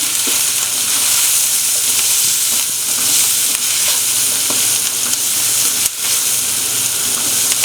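Macaroni with carrots and capsicum is stirred and mixed in a hot pan, loud constant sizzling and hiss with scraping stir strokes throughout, close and unbroken.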